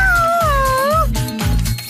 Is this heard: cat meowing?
yes